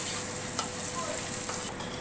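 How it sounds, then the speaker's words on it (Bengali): Onions frying in a pan for an Indian-style egg curry give a steady close sizzle and crackle with a few soft clinks of stirring, no voices. "তারপরে পেঁয়াজটা ভেজে নিতে হবে একটু।"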